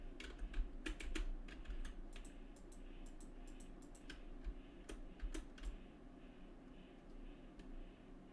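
Computer keyboard keys clatter in quick, uneven bursts of close, crisp clicks while someone plays Minecraft on Stadia with keyboard and mouse, pausing briefly between runs of typing, with no voices.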